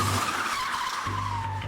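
A sedan brakes hard in a film stunt, tires skidding and squealing on the street pavement in one loud sustained screech with a low engine drone underneath.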